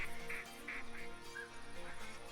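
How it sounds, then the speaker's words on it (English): Ducks quack repeatedly in a big flock passing overhead in the hunting game TheHunter Classic, the calls fairly faint and steady with a low ambient bed beneath them; pintail and gadwall are in the flock. "yet another huge flock of ducks coming in over our head"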